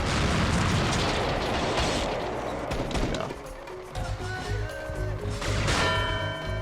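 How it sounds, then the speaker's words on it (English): Tank cannon fire in the video game Spyro: Enter The Dragonfly, heavy booming blasts and crashes that are loud at first, then ease back under game music. "They shoot at you before you even rounded the corner"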